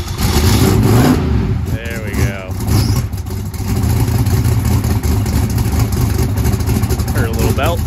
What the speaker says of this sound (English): Heard a little belt squeal right there.